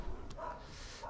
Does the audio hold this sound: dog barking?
yes